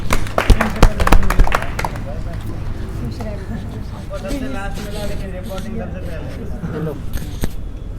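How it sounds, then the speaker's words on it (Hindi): Audience applause at an honor ceremony for students selected for the Air Force: a dense burst of clapping for the first couple of seconds, then fading under a voice talking. "तो ताली हो जाए एक बार"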